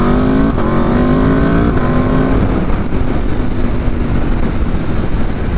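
A 2022 Aprilia RSV4 Factory 1100 with a flash-tuned ECU accelerates hard and loud, its engine note rising and then dropping sharply at each quick-shifter gear change, with a steady roar and rushing wind throughout.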